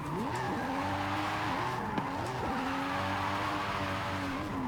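Revving engine of a modified Ferrari with a six-cylinder 2J swap in Forza Horizon, a loud, steady drone with repeated rising pitch sweeps through gear changes and a brief tire squeal, with no talk.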